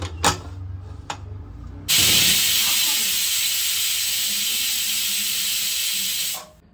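A pressure cooker whistle goes off while paneer pulao cooks: a loud, steady, high-pitched steam hiss holds for about four and a half seconds after a few quiet kitchen knocks, then cuts off.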